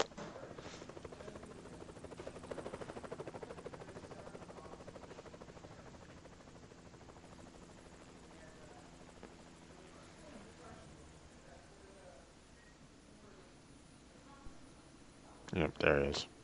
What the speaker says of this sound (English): or them showing up by helicopter